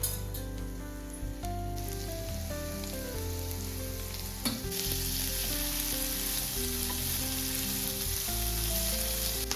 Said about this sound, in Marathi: कांदा आपण चांगला सोनेरी होईपर्यंत परतून घेऊ